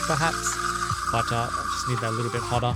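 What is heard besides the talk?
Turin MC3 espresso machine steam wand steaming water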